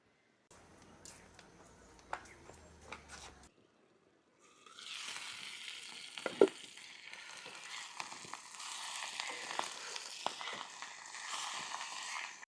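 Onion chili paste fries in oil, starting with a few faint clinks and quiet stirring, then breaking into a steady, bright sizzle with occasional pops and scrapes.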